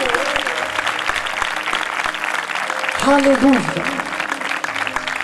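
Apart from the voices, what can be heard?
congregation applauding at church service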